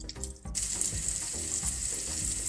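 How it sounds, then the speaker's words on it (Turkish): Steady loud sizzling of onions frying with tomato paste in a pan, a constant hiss with occasional soft stirring clatter, after a brief quieter start. "Soğanlarımız salçayla beraber kavruluyor."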